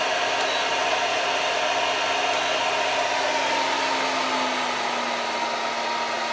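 A hair dryer runs steadily on a Bluetti Elite 400 portable battery, giving a loud, continuous whoosh with a faint motor whine that holds without a break.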